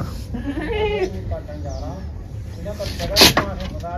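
A goat on a goat farm in Kota gives a few wavering bleats near the microphone, mixed in with someone talking and a brief loud knock or clatter near the end.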